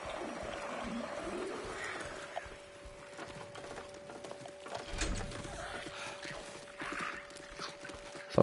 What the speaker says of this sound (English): Something sounds like a horse.